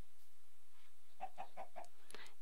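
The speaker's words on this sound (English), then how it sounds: "Do I look at the chickens floating in air?" Chickens in Minecraft give a short run of four quick, soft clucks, faint and close together, followed by a brief rustling sound, with no talking.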